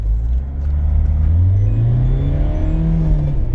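A Citroën C4 Picasso with 138 horsepower and automatic gearbox, repaired for lost power, accelerates hard from a standstill on a road test, its engine rumble rising loud and steady throughout with no talk.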